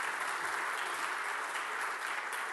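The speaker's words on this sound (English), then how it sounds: "Definitely worthy of applause" Steady applause from an audience at a youth mental health talk, a dense even wash of many hands clapping throughout with no gaps.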